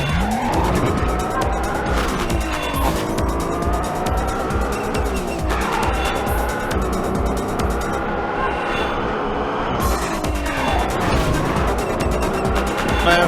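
A race car roars through the LA circuit in Midnight Club 2, its engine revving up and down while tires squeal and skid through corners, loud and continuous throughout.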